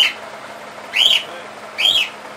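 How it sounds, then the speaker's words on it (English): Small birds kept inside a shop give three short, bright, rising chirps about a second apart, clear and fairly close above a low hum of room noise. "They have birds."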